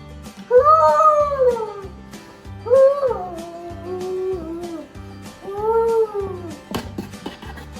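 A young child imitates an elephant with three loud, drawn-out trumpeting calls, each rising then falling, separated by short pauses, close to the microphone during an animal-sounds game at home.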